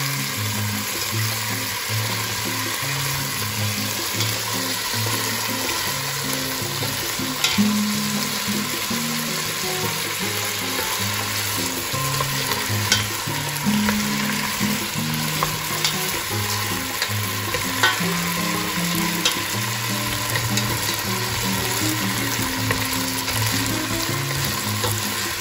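Potatoes hit hot oil with golden-browned garlic in a pan for a monkfish all i pebre, giving a loud, steady frying sizzle with stirring and clatter that runs throughout without speech.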